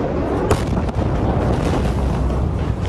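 A massive explosion blast in Lebanon, a deep, sustained roaring rumble with a sharp burst near the start, loud and dense throughout.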